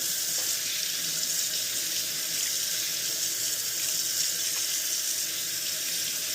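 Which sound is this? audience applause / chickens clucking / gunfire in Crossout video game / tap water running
tap water running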